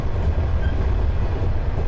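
A train running on rails in the Japanese driving game Densha de Go, passing Ise Station near an 85 speed limit, a steady low rumble of wheels with a soft rhythmic clatter, close and continuous, with no talk.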